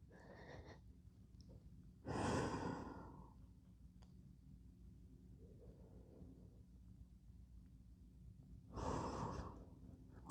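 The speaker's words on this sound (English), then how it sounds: "take the next 30 seconds to take a few deep breaths" Two slow, deep breaths during a mindfulness exercise, each a loud, close airy rush followed by quieter exhaling in a hushed room, with no speech.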